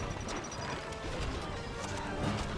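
Horse archers gallop in a medieval strategy game, with steady, fast clip-clop hoofbeats and an occasional whinny over a dense, busy battle background.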